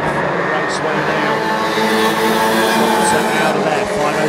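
1300cc stock cars race at Kings Lynn raceway, their engines roaring steadily with a dense, continuous drone and occasional higher mechanical whines, while a commentator talks over the racing.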